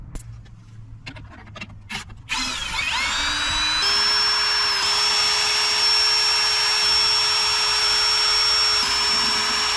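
A power tool whirs steadily and loudly, close by, while it removes bolts from the battery management system (BMS) during an electrical upgrade on a Hymer Aktiv camper van. Brief rattles and clicks come first, then the motor spins up and runs continuously.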